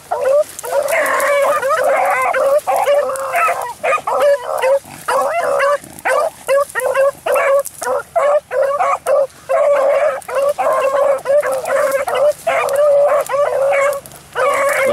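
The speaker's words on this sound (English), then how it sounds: "Hard to see the dogs right now." Several dogs bark, yip and howl excitedly outdoors on a sandy hill, a loud continuous chorus of overlapping calls with no talk.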